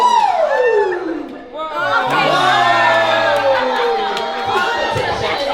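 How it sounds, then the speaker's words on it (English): A festival crowd at a Toronto event bursts into loud whooping, shouting and cheering at a competition, a high falling whoop opening into sustained close cheers and scattered yells. "Let's give him a round of applause."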